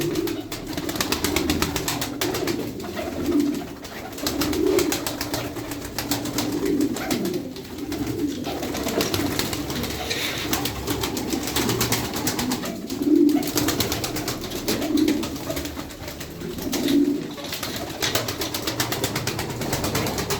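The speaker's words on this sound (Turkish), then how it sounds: "Çok hoş kuşlar var." Pigeons coo repeatedly in low, soft warbling calls over a steady background hum, with a few rustling wing movements.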